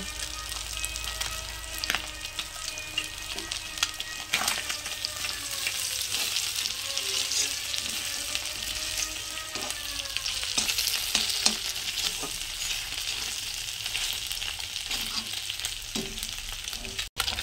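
Panch phoron whole spices sizzle and crackle in hot oil in a pan after fish has been fried, a loud continuous frying hiss with occasional stirring scrapes and pops.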